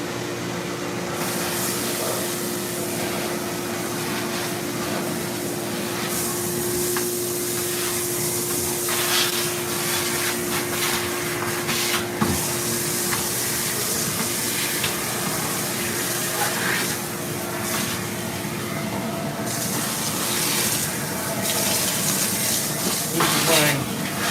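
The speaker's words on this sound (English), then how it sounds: "My modified shop vac. As you can see, it's pretty damn powerful." A modified shop vacuum roars steadily and loudly throughout, with a constant hum and crackly rattling as wood shavings from lathe bowl turning get sucked up the hose.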